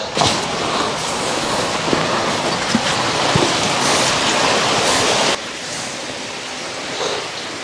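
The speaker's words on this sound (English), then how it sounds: "I can hear the creek again, so that's a good sign" Creek water rushing through a cave, a steady broadband roar of flowing water that drops slightly in level partway through, continuous and fairly close with no talk.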